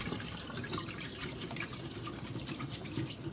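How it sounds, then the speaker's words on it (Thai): Cold tap water rinsing pieces of surströmming, Swedish fermented herring, in a sink: a steady close splashing flow with small irregular drips and spatters over it, no talking. "ล้างด้วยน้ำเย็นนะจ๊ะ"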